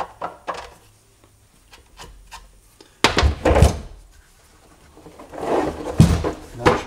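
A hand chamfer tool scrapes and rasps around the top edge of a drilled hole in a Chevy TBSS intake manifold being modified for an injector rail mount, in two close, fairly loud bursts of grinding strokes separated by a quieter pause with light knocks.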